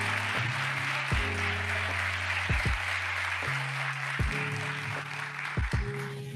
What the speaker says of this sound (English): Let's give Alana and her son Anthony another round of applause